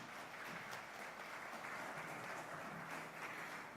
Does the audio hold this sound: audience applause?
yes